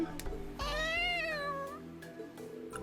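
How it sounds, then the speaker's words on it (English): A cat meows in the video game Trails into Reverie, one drawn-out, slightly wavering meow over a low game background hum, with brief short sounds before and after. "Oh, it's just the cat."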